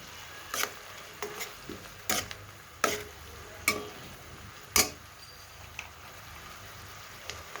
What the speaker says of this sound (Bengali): এই মশলাটাকে কষিয়ে নিচ্ছি।